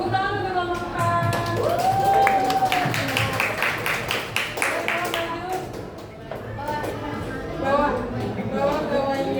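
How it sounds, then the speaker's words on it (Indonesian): Students clapping in a classroom for a presenting group, a loose run of individual claps mixed with chatter and talking voices, fading out as speech continues. "Tepuk tangan untuk kelompok 4."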